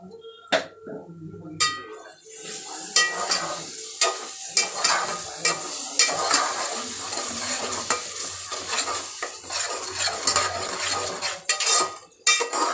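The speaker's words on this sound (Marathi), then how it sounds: "हे पण चांगल्या प्रकारे मिक्स करून घ्यायचं आहे आणि याला चांगलं तेल सुटेपर्यंत परतवायचं आहे." An onion-coconut ground masala is stirred and fried in oil for a mutton curry, with a steady sizzle broken by frequent clinks and scrapes of a spoon against the pan.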